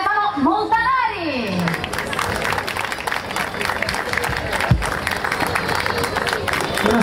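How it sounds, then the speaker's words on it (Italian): Applause and crowd noise rise from an audience welcoming a lecturer to a scientific conference in an outdoor square, steady clapping mixed with murmuring after a voice trails off at the start. "Farei un grandissimo applauso"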